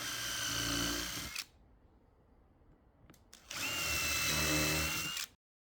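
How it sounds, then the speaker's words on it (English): A power drill bores pilot holes in wooden planter slats for screws, making two loud whirring bursts separated by a quiet pause and a faint click, close to the listener. "We marked up and pre-drilled where screws would be used to later fix the slats to the support"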